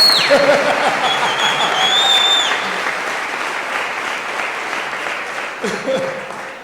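A church congregation claps steadily and loudly during a worship service, the dense applause continuing throughout with a voice and faint tonal sounds rising over it near the start and again at the end.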